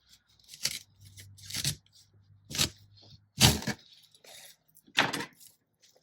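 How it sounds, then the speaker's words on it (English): A knife cuts down through a clump of dahlia tubers in several separate crunching, cracking bursts with quiet pauses between them. "So I'm going to cut it right down the middle there."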